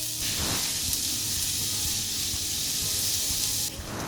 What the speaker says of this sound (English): we saute this till they're slightly brown